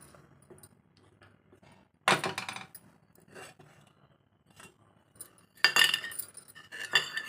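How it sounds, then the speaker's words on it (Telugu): While sweet potato halwa is being made, a metal pan is set on a stove with sharp clinks and clatters in two louder bursts, surrounded by quieter small knocks and stretches of near silence. "ప్యాన్ పెట్టుకొని"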